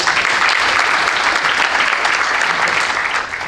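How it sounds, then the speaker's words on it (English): A dense, loud round of applause from the audience at the 26th Nat Nakasa Awards ceremony, continuous for the whole stretch and easing slightly at the end. "A round of applause, ladies and gentlemen."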